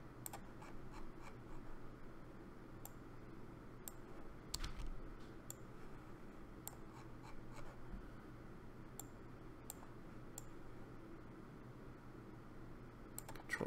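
Soft, fairly quiet computer keyboard clicks repeat at an irregular pace as a key combination is pressed over and over, with a low steady hum underneath.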